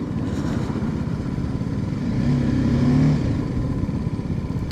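Motorcycle engine droning steadily while riding, roughly four hours into a long ride, with a close, continuous rumble and a brief rise in pitch and loudness midway, no talking.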